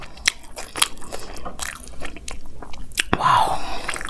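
Close, wet chewing and crunching from someone eating vegetable fried rice by hand, with repeated bites and squishy mouth sounds in an uneven rhythm throughout, no speech over it.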